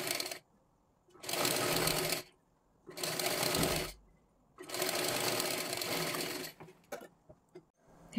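Sewing machine stitching along a folded blouse strip, running in three long bursts separated by short pauses, then a few brief stuttering stitches at the end; close and loud with no talking.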